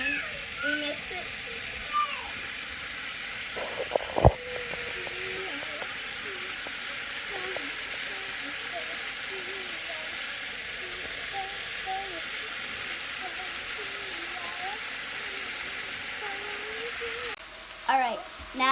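Baby corn and other vegetables stir-fried in a pan, a steady sizzle running throughout with a few clanks of a utensil partway through and again near the end.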